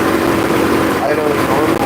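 A 2015 Volkswagen Jetta 1.8T Sport with an APR Stage 1 tune idles steadily after a spark plug service, a loud even hum with no revving.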